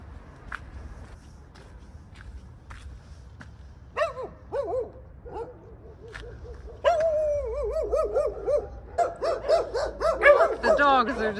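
Dogs barking in scattered short bursts amid the Soviet-era ruins of Chișinău, Moldova, faint and distant at first, then louder and more insistent near the end, over outdoor footsteps and background noise.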